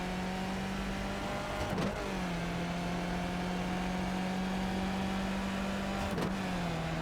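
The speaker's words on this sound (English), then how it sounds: "I shifted down to high RPM" A car engine in iRacing drones at high RPM after a downshift, holding a steady, moderately loud tone broken by two brief shift dips, with no voices.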